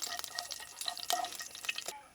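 Fenugreek seeds spluttering in hot oil in a pan after mustard seeds have popped, for a Kerala-style moru curry: sharp crackles and pops scattered irregularly over a quiet sizzle, close up with no talking.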